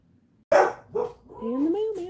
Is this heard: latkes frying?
no